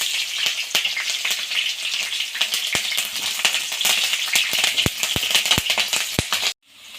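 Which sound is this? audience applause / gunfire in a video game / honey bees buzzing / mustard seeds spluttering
mustard seeds spluttering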